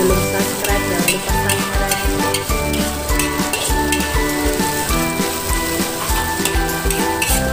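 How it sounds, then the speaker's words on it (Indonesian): Fried noodles stirred in a hot pan, a steady loud sizzle with continuous scraping and occasional clinks of the utensil against the metal, no talking. "Diaduk supaya tidak gosong."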